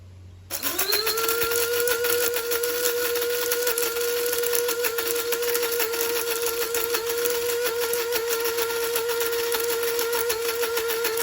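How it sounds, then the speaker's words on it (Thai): A kitchen blender grinds soaked brown rice. After a brief quiet start its motor spins up and holds a loud, steady whine close by, running alone to the end with no talk. "เราก็จะเอาข้าวกล้องที่ได้นะคะ มาใส่เครื่องปั่นนะคะ"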